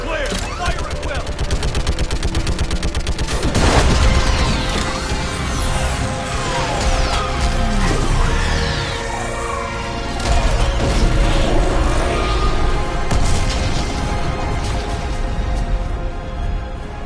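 Orbital strike pounding a live Reaper in the sci-fi shooter Mass Effect 3, delivered as heavy crashes, booms and bursts of weapon fire layered over a sustained loud roar, with spoken dialogue woven through the battle.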